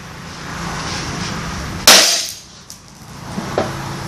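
An 8-inch hand-operated shear cuts through sheet metal with a single loud, sharp snap that quickly fades, followed by a couple of faint clicks in a quiet room.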